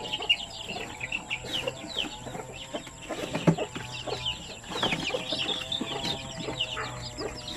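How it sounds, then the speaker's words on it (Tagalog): A brood of pure Basilan chicks peeps in quick, scattered chirps close by, with occasional louder clucks among them. "So, ang dami nating mga sisiw ngayon,"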